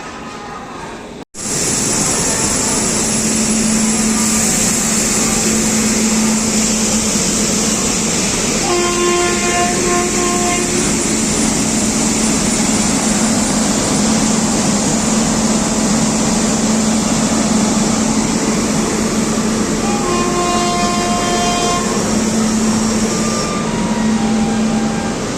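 An Indian Railways locomotive at the head of the 12955 Mumbai Central–Jaipur Superfast Express sounds two sustained horn blasts over a loud, steady engine rumble, heard close by.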